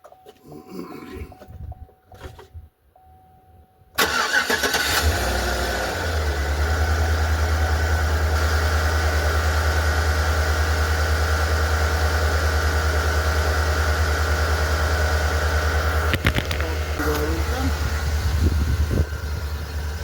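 A 2014 Yukon XL engine cranks and starts after a few quiet seconds with faint rustling, then settles into a steady, loud, even idle hum that runs unbroken to the end, with one brief clunk partway through.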